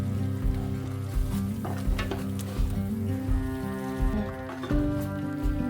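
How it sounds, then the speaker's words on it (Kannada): Spinach puree masala sautéing in a pan for palak masala rice, with a soft steady sizzle and periodic scraping stir strokes, heard alone under a continuous background hum. "ಎಲ್ಲ ಸ್ವಲ್ಪ ಬಾಣಲಿ ಬಿಡತ್ತೆ ಅಲ್ಲಿವರೆಗೂ ಸ್ವಲ್ಪ ಹುರ್ಕೋಬೇಕು"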